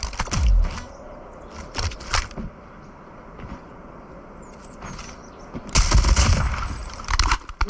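Bursts of Fennec submachine gun fire in a Call of Duty bomb-site match, a few sharp loud volleys early on, a quieter stretch, then a heavy sustained burst near the end.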